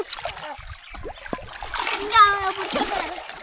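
Water splashes and sloshes nearby as people swim in a village, children and adults talking over it, the splashing swelling briefly in the middle.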